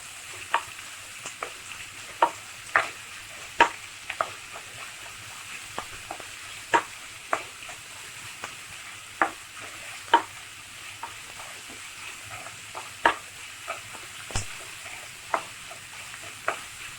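Onions sauté in oil for lemon idli, with a soft steady sizzle under repeated light taps and scrapes of a spatula against the pan at irregular intervals, close and fairly quiet, and no voices.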